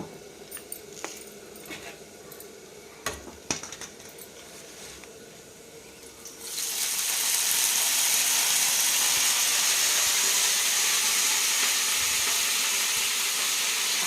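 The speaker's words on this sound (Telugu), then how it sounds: "అదే బండిలో కొంచెం ఆయిల్ వేసేసి పుదీనా కూడా వేయించుకుందాము" Mint leaves dropped into hot oil in a pan, with a few clicks and light clatter followed by a loud, steady sizzle that starts abruptly and continues evenly.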